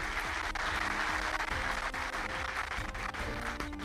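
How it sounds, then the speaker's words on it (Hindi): Audience applause for a student's question at an Indian Independence Day event, steady dense clapping throughout with faint voices murmuring beneath. "तालियां बजाएं इस प्रश्न पे।"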